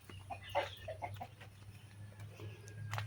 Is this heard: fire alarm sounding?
no